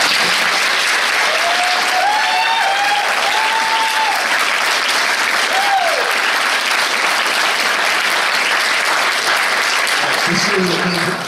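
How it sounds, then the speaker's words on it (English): A debate audience at a gubernatorial forum gives sustained, dense applause that fills the room evenly, with a few voices calling out over the clapping. "Now you can applaud."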